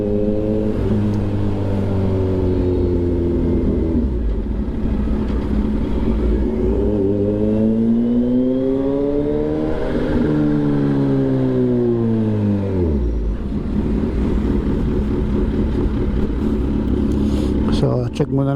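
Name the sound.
motorcycle riding fast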